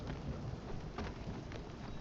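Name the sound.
thunderstorm in video game Spiritfarer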